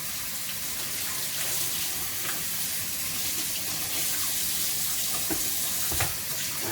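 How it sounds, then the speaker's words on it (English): A kitchen tap runs steadily while vegetables for a BLT are washed beneath it, giving a loud, continuous hiss of splashing water with a few faint knocks and no speech. "Let's wash all of our veggies."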